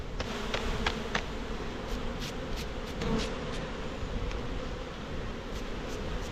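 Honeybees buzz steadily around an open hive with capped frames, a dense continuous drone close by, with occasional louder individual bees passing near.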